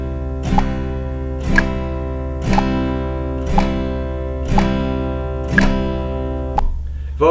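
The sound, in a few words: guitar down strokes over metronome at 60 bpm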